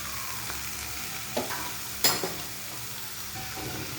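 Chopped onion and green chili fry in a pan with a steady broadband sizzle, broken by a few sharp utensil clinks and scrapes of stirring; no one speaks.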